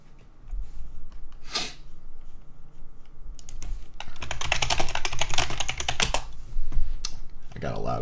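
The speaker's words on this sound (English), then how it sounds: "I got a loud keyboard if you guys can't hear it." Rapid typing on a loud computer keyboard, with dense bursts of clicking keystrokes that are close and prominent, strongest in the middle of the clip against a steady background hum.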